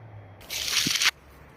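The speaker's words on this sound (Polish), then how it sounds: "jak mi leci na głowę woda z drzew" Water shaken loose from trees showers down onto a person's head in a short, close rushing patter lasting under a second, then stops.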